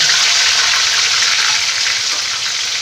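Ground onion paste hits hot oil in a pan while cooking chicken do pyaza, giving a loud, dense, continuous sizzle with a steady hiss and no talking.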